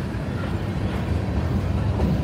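A CSX freight train slowing down, heard as a steady low rumble with rough broadband noise and some wind buffeting on the microphone, continuous and fairly close, with no talking over it.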